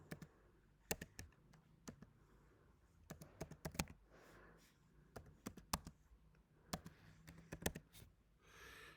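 Someone types a search term on a computer keyboard: irregular bursts of crisp, close key clicks with brief pauses between words, fairly quiet overall.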